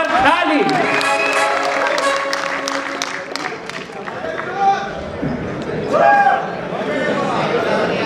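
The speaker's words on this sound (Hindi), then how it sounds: "जोरदार तालियां बजाए" A live comedy-show audience in Jaipur breaks into applause and cheers as a comedian is introduced, a dense crowd clapping that swells, dips and swells again alongside talk over a microphone.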